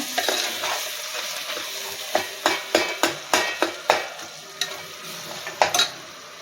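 Chopped onions sautéing in a pan for chicken biryani, a steady close sizzle broken by a series of sharp stirring scrapes and clinks of a utensil against the metal, with no talking.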